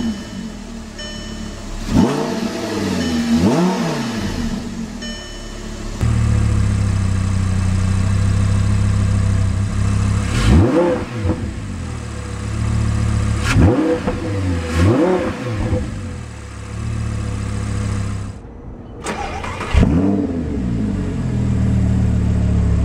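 Audi R8 GT from 2013 with its engine revving hard in repeated loud bursts, each climbing and falling in pitch over a steady idle rumble, with no voices.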